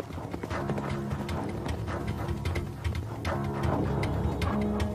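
Horses' hooves clip-clop rapidly on a road as courier relay horses gallop in a documentary scene set in ancient Rome, a dense continuous hoofbeat rhythm close by and fairly loud.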